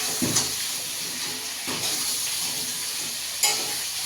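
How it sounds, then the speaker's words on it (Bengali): Fish frying in a pan in a home kitchen, with a steady soft sizzle and hiss and a few brief clinks of stirring spaced across the clip. "এদিকে মাছ ভাজা চলছে"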